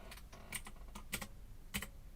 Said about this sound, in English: My keyboard, I didn't realise how loud it was.